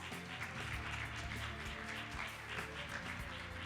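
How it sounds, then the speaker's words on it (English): An audience at the World Bio Summit 2023 session claps steadily to welcome a speaker to the stage. The applause is soft and distant, a continuous patter with no voices over it. "Let's welcome her with a big round of applause."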